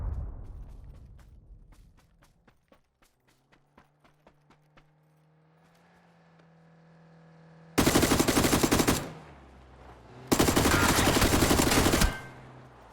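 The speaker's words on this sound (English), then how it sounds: "Oh, he's using the pistol." Pistol gunfire in the console version of PUBG during a match: a quick series of sharp shots in the first few seconds, then two long loud bursts of dense in-game noise later, with no talking.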